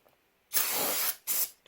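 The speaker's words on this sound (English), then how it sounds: "spray some carburetor clean on the crank." Carburetor cleaner sprayed from an aerosol can onto a 5.3 crankshaft being prepped for polishing: a loud, close hissing burst of about half a second, then a shorter second blast and the start of a third.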